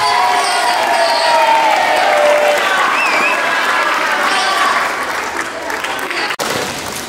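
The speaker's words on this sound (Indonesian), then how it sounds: "Give applause for Mikail Hidayatullah" Applause and cheering from a crowd of new students at an Islamic boarding school orientation session, a steady, dense wash of clapping and voices that thins out toward the end.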